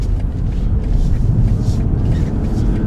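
A car pulls away during a driving lesson, its engine a steady low rumble and road drone filling the cabin from close by, loud and even throughout.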